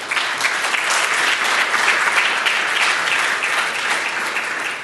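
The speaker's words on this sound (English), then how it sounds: "So a big round of applause for them," Conference attendees give a big round of applause for event sponsors, steady dense clapping from a sizeable crowd holding at an even level and tapering slightly at the end.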